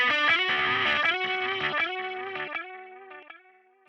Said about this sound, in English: we can hear those repeats for a lot longer than we did the first time, and that's because everything is just louder, and they all sound really distorted